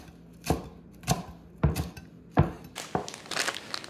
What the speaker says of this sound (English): I'm going to mince some mint leaves